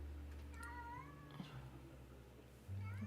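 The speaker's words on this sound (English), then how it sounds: "What's wrong with that kitty?" A cat meows several times in rising, wavering cries over a steady low hum, close by and fairly clear.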